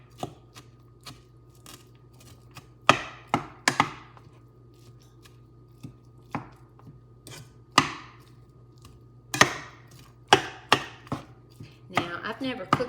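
A utensil breaks up ground meat in a pan for a bacon cheeseburger tater tot casserole, making sharp, irregular scraping knocks close by. The knocks come in scattered bursts over a low steady hum, with no talk.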